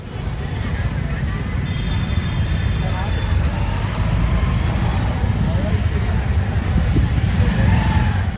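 Congested road traffic in Raipur during an air show: a dense, steady rumble of idling and creeping engines that stays loud and even throughout, with a faint murmur of voices underneath.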